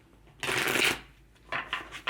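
Tarot cards shuffled by hand during a love reading, a loud papery riffle burst of about half a second followed by softer, shorter flutters of cards, close and with no voice over them.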